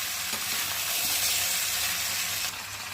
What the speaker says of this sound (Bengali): এখানে উচ্ছে আলু ভাজা করছি